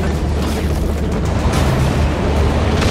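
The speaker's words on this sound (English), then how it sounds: "Heads up, drop pods incoming" Drop pods landing in the Halo 4 Spartan Ops mission, heard as a dense, loud rumbling boom that sustains like an explosion across the whole moment, with no speech over it.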